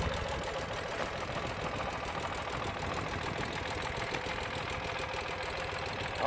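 A carbureted 2009 Ural Sahara Limited Edition two-wheel-drive sidecar motorcycle engine idles steadily on a cold 40-degree day, a continuous mid-pitched running sound with a fast, even pulse and no talk.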